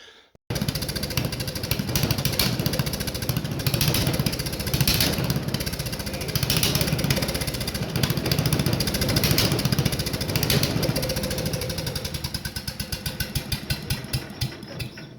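A rebuilt 1984 Briggs & Stratton small engine starts abruptly and runs steadily with a fast, rhythmic chugging putter. It stays loud and close throughout, with slight unevenness near the end.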